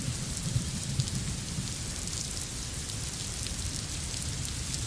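Heavy monsoon rain falls across Mumbai in a steady, loud, unbroken roar of drops hitting surfaces, with a low rumble underneath and no voices.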